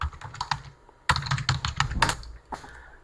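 A command is typed on a computer keyboard: quick, close, light key clicks in two short runs with a brief pause between them, and no talking.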